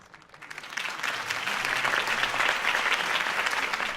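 A crowd erupts into applause for Harvey Dent's campaign speech in Batman: The Telltale Series, swelling within the first second into sustained, dense clapping that holds steady to the end.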